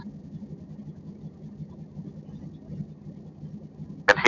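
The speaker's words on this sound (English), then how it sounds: "Hear the RPM pick up as the oil thins out, so the resistance on the crank disappears." A de Havilland Beaver's radial aircraft engine runs steadily at low idle as the oil thins and RPM rises, a faint even drone before a sudden sharp noise at the end.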